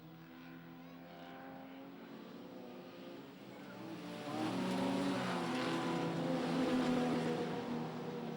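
Modified production race cars circle Kingaroy Speedway at night. Their engines drone steadily at a distance, then grow louder and harsher as the pack roars closer.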